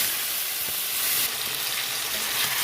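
Marinated chicken hits hot oil with bay leaf and dried red chilli, giving a loud, steady, close hiss of sizzling frying with faint stirring knocks.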